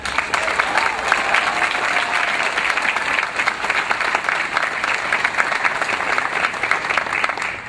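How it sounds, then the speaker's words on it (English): Sustained, steady applause fills a law school commencement ceremony, a dense wash of many hands clapping from a large audience for the whole stretch, with faint speech mixed in. "Let us recognize all of these mothers, fathers, brothers, sisters, spouses, partners, children, and others with a round of applause."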